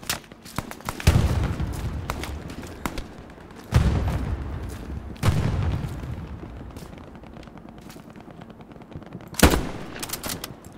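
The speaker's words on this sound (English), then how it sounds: "I'm already getting shot at." Gunfire in the World War II shooter Hell Let Loose, with sharp cracks and bursts of shots, some heavy booming reports at intervals amid a dense rattle of more distant fire, no voices.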